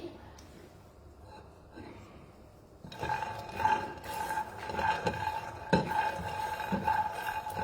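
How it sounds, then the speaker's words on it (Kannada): Rice ingredients with peanuts fry in a pan; after a quiet start, stirring and utensil clatter start up over a sizzling background, with talk alongside. "ಸೊ ಇದು ಫ್ರೈ ಆಗ್ತಾ ಇದೆ. 1 ಮಿನಿಟ್ ಫ್ರೈ ಆದರೆ ಸಾಕು ನಮಗೆ."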